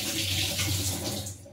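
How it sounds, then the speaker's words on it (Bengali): Hands are rinsed under a running kitchen tap while preparing catfish curry, a steady, close splashing stream of water that continues without a break. "আমি হাতটা ধুয়ে নিচ্ছি"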